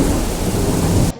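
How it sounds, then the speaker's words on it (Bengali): Thunder rolls through a heavy, windy storm with rain, a loud continuous roar of wind, rain and rumbling that cuts off abruptly near the end. "এখন এই যে ভীষণ ঝড় বৃষ্টি হচ্ছে"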